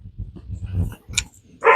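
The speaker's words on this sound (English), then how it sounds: "there's dog barking happening in the house" A dog inside a house gives a few short barks and growly yips close by, with a brief higher yelp at the end.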